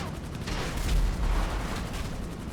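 Vehicle rockets fire in the video game GTA Online, a dense rolling boom of blasts swelling to a peak and then tailing off.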